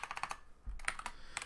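Clicky keystrokes on a computer keyboard come in quick bursts close to the mic, a run of taps, a brief pause with a low thump, then more scattered presses.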